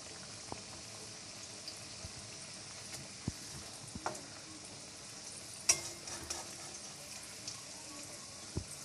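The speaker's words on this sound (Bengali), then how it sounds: "এবার আমি একটা একটা করে সব ভেজে নেব।" Pieces of food fried one by one in hot oil in a home kitchen, giving a steady, fairly quiet sizzle with scattered small pops and clinks, no voices.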